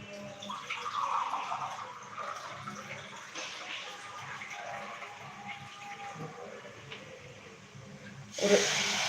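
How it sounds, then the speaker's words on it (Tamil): Water running and splashing into a pan of sautéed ingredients for garlic vathal kuzhambu, a continuous hiss with a brief louder splash near the end. "இப்போ இதுக்கு தண்ணி ஊற்ற போகிறோம்"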